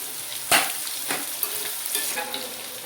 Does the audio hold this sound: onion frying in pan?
yes